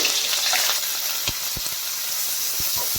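Cumin seeds, green chillies and onions fry in hot mustard oil with a dense, even sizzle, close and loud, broken by a few soft knocks of a spoon against the pan.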